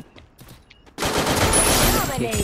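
Rapid automatic gunfire from a shooter video game erupts after a quiet second and continues loud and dense to the end.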